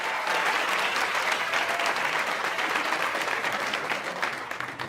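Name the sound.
audience applause for comedian Waly Dia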